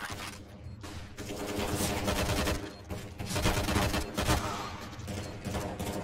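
Rapid gunfire in the shooter Counter-Strike: Global Offensive, with dense bursts of shots and mechanical clatter in a continuous, loud barrage that briefly dips between volleys.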